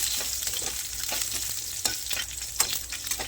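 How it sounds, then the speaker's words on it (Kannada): Garlic and curry leaves frying in hot oil, producing a dense close-up sizzle that crackles throughout, with a few soft stirring scrapes in the pan and no voices. "ಆಯಿಲ್ ಬಿಸಿ ಆದ ನಂತರ ಬೆಳ್ಳುಳ್ಳಿ ಮತ್ತು ಕರಿಬೇವಿನ ಸೊಪ್ಪು ಹಾಕಿ ಚೆನ್ನಾಗಿ ಫ್ರೈ ಮಾಡ್ಕೊಳ್ಳಿ"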